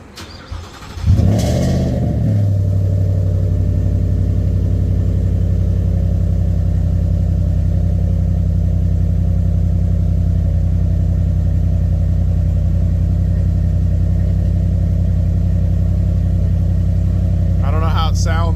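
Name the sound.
2022 Ford F150 Whippled Coyote cold start, chambered Flowmaster muffler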